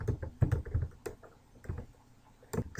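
Someone types on a computer keyboard at close range in short irregular bursts of clicking, with brief pauses between the keystrokes.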